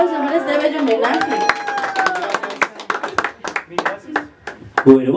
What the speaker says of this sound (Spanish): Y fuerte el aplauso para este bello homenaje.